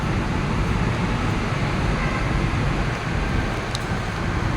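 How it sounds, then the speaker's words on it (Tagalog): Heavy rain pours steadily outdoors under a dark sky, a dense, even broadband wash that stays loud and unbroken throughout with no voices. "Siguro ang lakas na naman ang ulan na yan."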